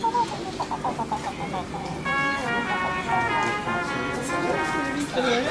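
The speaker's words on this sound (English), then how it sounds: "The mountain parrots." Mountain parrots call close by in a loud run of repeated harsh squawks and ringing, harmonic screeches that overlap and carry on for several seconds.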